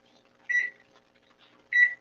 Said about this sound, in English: I'll set a timer.